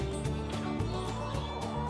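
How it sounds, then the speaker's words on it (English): A white Polish hen clucks softly in a short, steady run of low, close murmuring calls with no talk over it. "She's a white Polish hen."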